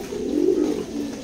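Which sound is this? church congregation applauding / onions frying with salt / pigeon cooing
pigeon cooing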